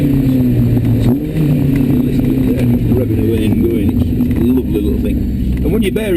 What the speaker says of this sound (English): You listen to it there, just revving away and going.